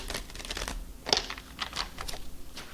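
A deck of oracle cards is shuffled up close, producing rapid papery flicks and soft clicking riffles in an uneven rhythm, with one sharper snap midway.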